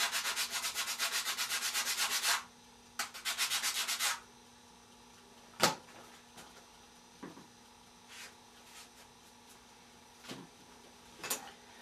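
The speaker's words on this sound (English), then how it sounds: "Going to sand those as we have done with everything we glue." Pieces of ABS plastic rubbed back and forth on sandpaper in rapid, even strokes for about two seconds, then a second short burst, followed by scattered faint clicks and knocks of handling parts on a workbench.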